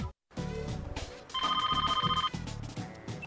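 A cell phone text message alert in the My Scene video game rings as a bright repeating electronic chime over game music, loud and close.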